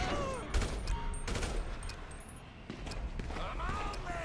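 Video game gunfire in Grand Theft Auto V: a burst of sharp shots crackles out, then more scattered reports follow, mixed with clatter and background game noise.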